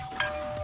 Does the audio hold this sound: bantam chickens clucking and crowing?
no